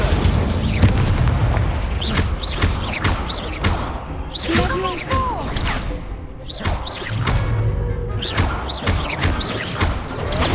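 Incendio fire spells cast during a Hogwarts Legacy duel burst out as booming, whooshing blasts, one after another, mixed with crashes and thuds of other combat effects over a steady, loud game soundscape.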